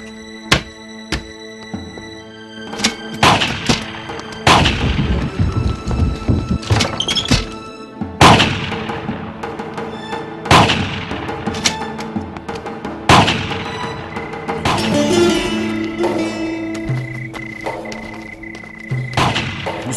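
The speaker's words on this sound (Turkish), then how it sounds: "Bu silah sesleri de nedir?" Heavy gunshots boom at irregular intervals, sharp and loud, with scattered fainter cracks in between and no talking.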